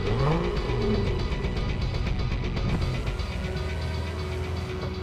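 A car engine revs and roars steadily up close while a vehicle pulls away from pursuers during a chase, the sound loud and continuous with no talk over it.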